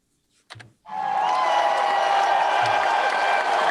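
After a few brief clicks and a pause, a recorded crowd breaks into full applause and cheering that holds steady and loud to the end.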